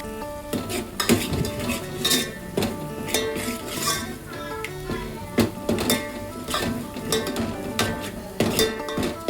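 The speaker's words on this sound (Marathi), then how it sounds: "नंतर खोबरं लसूण टाकून घेतलं आणि खोबरं लसूण तेलामध्ये छान असं परतून घेतलं." Grated coconut and garlic are stirred in hot oil with curry leaves in a pan, a ladle clinking and scraping against metal in an irregular rhythm over a faint sizzle.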